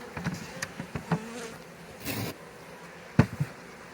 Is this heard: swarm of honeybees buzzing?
yes